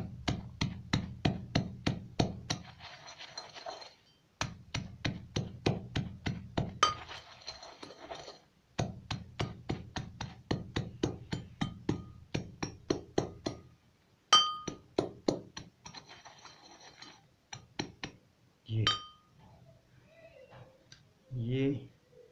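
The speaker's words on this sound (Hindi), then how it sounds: "इसी तरह अंडों छिलकों को भी इसी तरह आपने पीस कर बारीक करना है।" Eggshells crushed into fine pieces as calcium for chukar and partridge birds, heard as rapid rhythmic clicking and clinking strokes in bursts, close, with a few soft sounds near the end.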